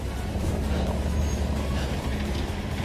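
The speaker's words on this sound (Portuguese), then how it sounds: "lá vem três carros" Road traffic rumbles past in Cambuí, Minas Gerais, Brazil, a broad steady roar of several vehicles at moderate distance, continuous throughout with no talking.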